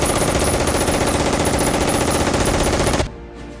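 Sustained German machine gun fire from a World War II battle scene in the film Saving Private Ryan, a dense unbroken rattle of rapid shots for about three seconds before cutting abruptly to quiet.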